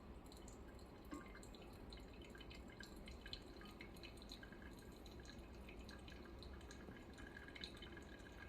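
Water being poured over coffee grounds to brew freshly roasted Guatemala beans, a steady continuous trickle with soft dripping throughout, fairly quiet and with no talking.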